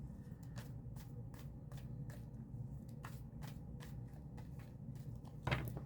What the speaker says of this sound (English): See how I have to shuffle?